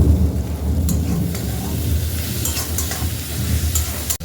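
Tomatoes and onions with turmeric sizzle loudly in a pan, a dense steady crackling hiss with low rumble close up, and a brief break just before the end.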